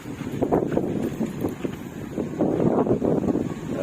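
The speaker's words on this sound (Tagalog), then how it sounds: "Malakas na hangin, oh." Strong gusty wind buffets the microphone, a loud, continuous roar with surging bursts and no other clear sounds.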